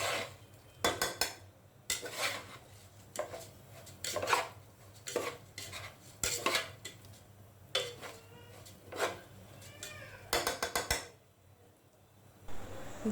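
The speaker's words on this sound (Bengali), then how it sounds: "আমি প্রায় 3 মিনিট পোলাওয়ের চালটাকে ভেজেছি।" Uncooked pulao rice is fried in a pot while a utensil scrapes and stirs it, making repeated clattering metal scrapes in bursts about every second, close and fairly quiet, with no talk.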